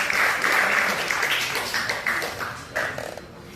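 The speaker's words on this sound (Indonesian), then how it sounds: "Tepuk tangan kami Pak." A burst of applause from a group, clapping that rises, wavers and thins out within a few seconds.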